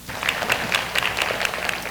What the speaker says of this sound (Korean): 남경희 선생님 나오실 때 크게 박수로 환영해 주시기 바랍니다